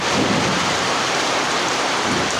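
Heavy rain pours down during a storm in Agartala, a dense, loud, unbroken roar of downpour on surfaces with a deep rumbling undertone, steady for the whole stretch.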